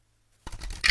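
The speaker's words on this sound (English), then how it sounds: "Oh, these cards are just fun shuffling." Tarot cards shuffled by hand at a reading, a brief silence giving way to close, crisp papery riffling and scratching that builds into a sharper flutter at the end.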